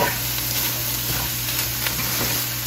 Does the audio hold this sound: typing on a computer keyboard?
no